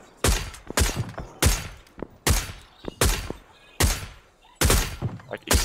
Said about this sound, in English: I'm shooting right the fuck at him.